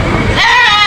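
Goat bleating at a livestock auction market, a single wavering call rising out of background crowd noise and held to the end, close and fairly loud.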